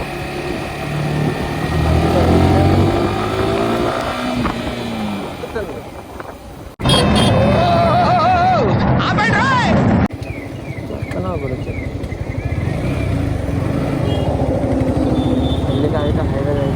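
Engine of a 2024 Yamaha R15 V4 motorcycle during a ride, a steady mid-pitched drone with wind rush, someone talking over it throughout and a brief louder shift partway through.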